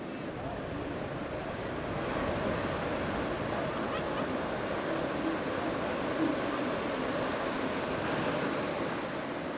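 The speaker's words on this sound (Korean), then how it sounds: "순식간에 서퍼들을 삼켜버리는 파도" Big ocean waves break over surfers off Bali, a steady, dense roar of churning surf and wind that stays loud with no pauses.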